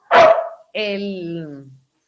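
A dog barks twice up close: a short sharp bark, then a longer whining, yelping bark, both loud and alone.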